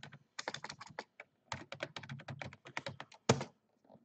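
A password is typed on a computer keyboard in quick bursts of sharp, close key taps, with short pauses between groups and one louder keystroke near the end, in a quiet room with no talk.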